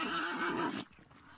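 A horse in the game Hunt: Showdown gives one loud, shrill whinny that trails off, heard up close with little else around it.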